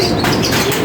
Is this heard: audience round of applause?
no